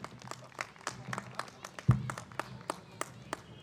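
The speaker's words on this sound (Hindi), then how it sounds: "एक बार आपकी तालियां होनी चाहिए।" Audience clapping at a Hindi kavi sammelan poetry gathering, a scattered run of sharp individual claps spread across the room at moderate volume, with one louder thump near the middle.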